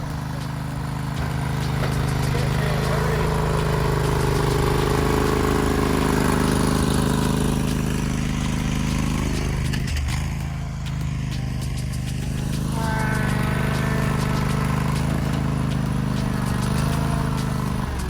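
A lawn mower engine runs steadily and loudly throughout, a rough, droning idle with a slight dip in the middle before it picks back up.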